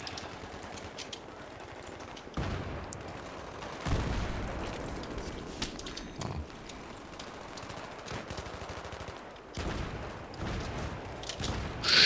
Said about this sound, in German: wie viele Granaten werfen die denn da rein?